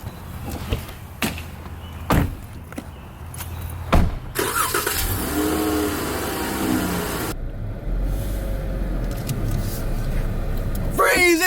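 A car engine runs through a tense police stop, idling with a low rumble and briefly swelling louder in the middle, while voices speak over it and sharp knocks punctuate the start.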